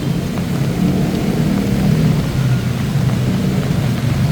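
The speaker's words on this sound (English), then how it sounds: "it just started to rain" Rain falls steadily at Nana BTS station on Sukhumvit in Bangkok at night, a loud, dense wash with a deep rumbling undertone of thunder and traffic, and no voices.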